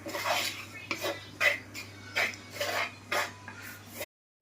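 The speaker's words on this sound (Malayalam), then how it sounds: "ഇതൊന്ന് എടുക്കും വഴറ്റി കൊടുക്കാം." A spatula scraping and stirring in a pan while sautéing coriander powder and spices for Kerala fish curry, with regular clinking strokes about every half second, close and fairly quiet.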